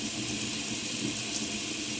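Steady broadband rush of water flowing from a tap fed by a Clage MCX4 electronic instant water heater, continuous and fairly loud with no talk.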